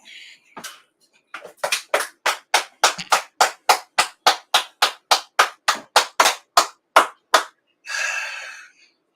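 An audience claps in unison, with about twenty sharp, evenly spaced claps in a steady beat. The clapping is loud and close, then ends in a short burst of cheering noise.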